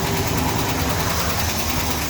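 A Mopar engine idles with chattering lifters, giving a steady, loud rumble with a fast ticking clatter running through it, and no voices.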